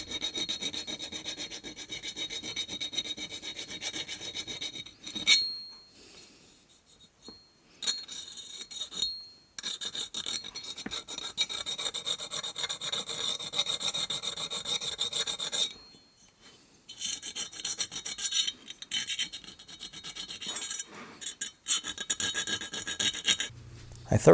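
Hand file rasping over the cut edges of an air rifle piston tube, rounding them off on an HW30S in quick repeated strokes, close and fairly quiet, with brief pauses between bursts.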